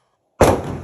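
A Walther P22 .22 pistol fires a single sharp shot after silence, a close, loud crack with a short ringing decay.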